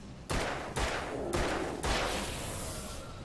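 Four heavy gunshots from the Alan Wake video game, evenly spaced about half a second apart, each a loud close blast with a short ringing tail, no voices.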